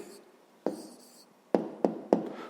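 Pen strokes on paper as a math exercise answer is written down, a few short distinct scratches and taps, close and quiet, with no voice.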